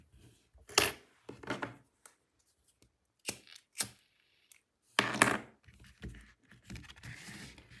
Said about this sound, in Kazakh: Одан кейін жібімді қиып тастаймын.